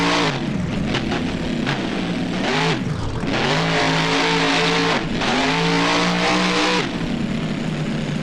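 Monster truck engine in the BeamNG video game revving hard through a freestyle run on boneyard ramps, loud and continuous with rising and falling pitch sweeps and brief dips between bursts, no voices.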